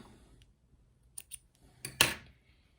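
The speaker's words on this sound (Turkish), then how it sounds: "Ama ben çıt makasımı kullanayım şurada." Small snip scissors cut thread beside a Zetina 325 home overlock machine, giving a few quick, crisp metallic snips close up against an otherwise quiet background.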